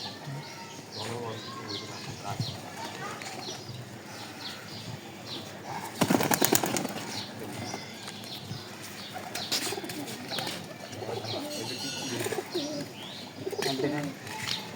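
Pigeons kept at a house where many are raised coo and murmur on and off, with a brief burst of wing flapping midway, amid background chatter and ambient outdoor noise.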